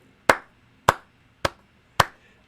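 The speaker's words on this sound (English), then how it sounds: "I'm going to give you the Jason Garrett clap" Four sharp, separate hand claps, evenly spaced about half a second apart, loud and close against a quiet background.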